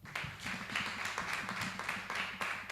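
A small audience at an entrepreneurship summer school launch claps briefly in response to a call to applaud, a faint, sparse patter of hands with distinct individual claps.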